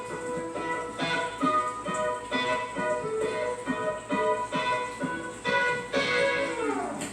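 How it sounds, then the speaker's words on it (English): Finger-picked guitar notes played quietly one at a time, with a steady pulse of plucked tones ringing close and alone. "I just play those quietly by finger picking at the beginning."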